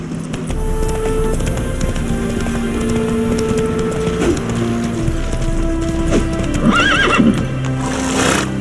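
Horse galloping in the Witcher 3 video game, steady pounding hoofbeats under game music with a whinny near the end, loud and close.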